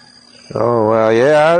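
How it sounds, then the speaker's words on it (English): Near silence breaks into a loud, drawn-out crow with a rising, strained tone, held steadily until the end. "It sounds like the rooster is active too."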